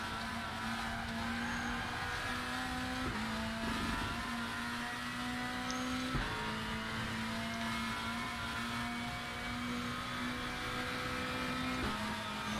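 A WTCC17 Volvo touring car in the RaceRoom racing game circuits the Salzburgring: a loud, steady engine drone with sharp gear-shift steps and revving, continuous and close, with no voices.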